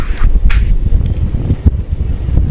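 Strong wind buffets the camera microphone on a motorcycle ride along the Pacific coast at Dingalan, a loud roaring rumble with gusty bursts that stays close and constant.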